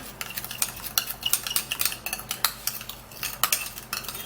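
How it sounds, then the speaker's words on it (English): A spoon or utensil scrapes and clinks rhythmically against a bowl as a baking soda mixture is stirred, a quick run of close, bright taps and swishes with no speech. "I have to make sure to mix it really well,"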